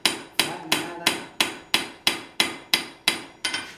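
A blacksmith's hammer striking a steel horseshoe on the anvil, ten evenly spaced, ringing blows about a third of a second apart, close and clear with each strike decaying quickly.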